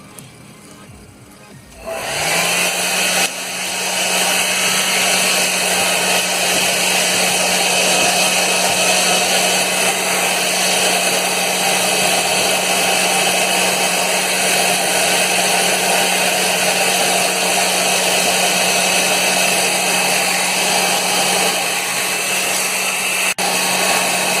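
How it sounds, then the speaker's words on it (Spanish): After a brief quiet start, a hair dryer switches on and blows a loud, constant whirring hum over paper tubes, holding steady and close for the rest of the stretch. "Lo secamos con el secador, ¿sí? Lo secamos para poder seguir."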